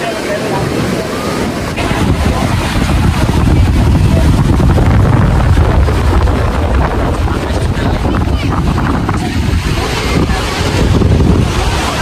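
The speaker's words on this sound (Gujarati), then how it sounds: "આ ભવાની આવેલું દરિયા કિનારે આ દરિયો છે" Strong wind buffets the microphone at Bhavani beach while sea waves surge in a continuous loud roar, with no pauses throughout.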